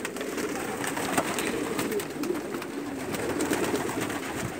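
Doves cooing in Saudi Arabia, soft repeated coos among a steady bed of other bird chatter and background noise, heard without talk.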